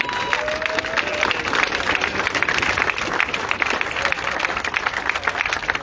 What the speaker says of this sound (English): Let's give the elected officials a round of applause